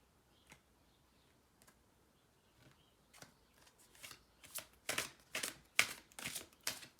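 A deck of tarot cards is shuffled close up in a quiet room, starting with sparse soft riffles and building into rapid, louder bursts of flicking cards.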